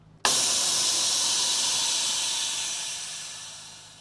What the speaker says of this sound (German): Und wenn ich jetzt den roten nochmal ziehe, werdet ihr es gleich hören, zischt die Luft ein bisschen länger.